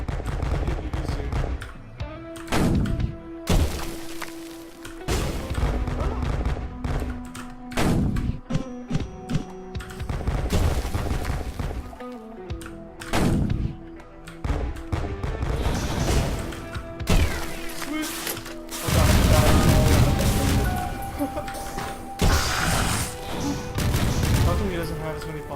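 Colossus enemy dying in the Risk of Rain video game, setting off a chaotic string of bomb explosions: loud, dense bursts of blasts, thuds and crackling impacts piling up over each other almost without a break.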